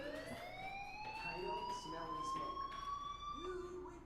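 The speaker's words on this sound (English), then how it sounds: "do you hear that fire alarm?" A fire alarm rings in the video game Life is Strange, a steady high electronic tone that rises gradually in pitch and continues throughout, with faint speech and game sounds underneath.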